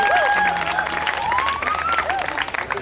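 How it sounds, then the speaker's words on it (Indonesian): A church congregation at a joint Easter service applauds steadily throughout, with a continuous wash of clapping under sustained tones and a sliding pitch from the hall's sound system. "Beri tepuk tangan di sebelah kiri saya,"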